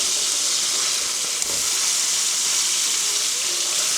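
Chicken tobacco pieces sizzle and fry loudly in a pan just after flipping, a dense steady hiss with one small clack partway through, no voices.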